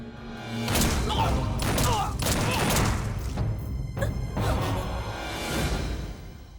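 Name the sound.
gunfire from guns in a movie action scene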